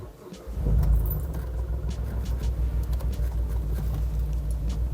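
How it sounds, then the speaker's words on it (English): A Hyundai Tiburon engine cranks and catches, surging to a loud rumble, then settles into a rough, steady idle with a slight lumpy pulse. "this is my first time starting my high school dream car"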